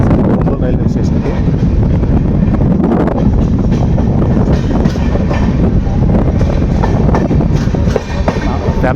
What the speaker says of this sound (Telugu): ఒంగోలు దాటిన తర్వాత బండి నేరుగా వివేక్ ఎక్స్ప్రెస్ నేరుగా విజయవాడ వైపు అయితే వచ్చేసింది